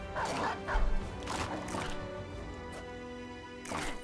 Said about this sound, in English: Let's release a dog too.